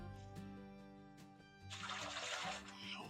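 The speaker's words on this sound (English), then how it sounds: "let me empty out this little container because there seems to be a little bit more water in here coming out" Water pouring out of a small container into a bucket in a basement with a leak, a faint splashing trickle that builds to a steady pour over a constant hum.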